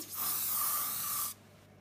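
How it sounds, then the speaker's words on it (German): Cheap hairspray is sprayed from an aerosol can onto a cotton-pad craft decoration, one steady close hissing burst of about a second that cuts off sharply, with no talk. "Dann sprüht ihr das damit ein."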